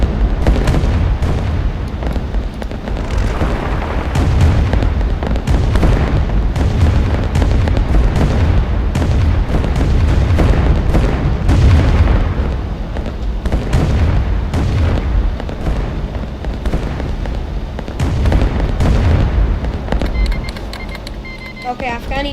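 Bombers drop bombs in the strategy game Rise of Nations, setting off a dense run of booming explosions and bursts that rumble continuously, with a player talking over the blasts.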